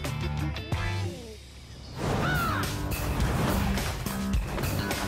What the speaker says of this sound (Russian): Ворон по кличке Тата прожил 59 лет.